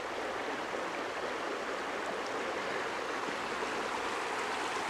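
A small creek tumbling over falls near McKay Campground in Oregon, giving a steady, close rushing hiss of water that stays even throughout with no voices.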